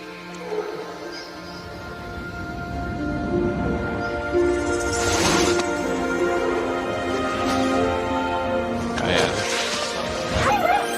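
Dog barking and yelping in a movie scene, several sharp barks and whimpers over a music score, with excited voices calling out over it.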